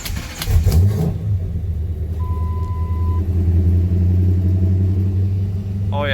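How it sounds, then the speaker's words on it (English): A van's engine cold-starts with a loud burst of revving, then settles into a steady, deep, close idle rumble. "I figured I'd start this video off with a killer cold start"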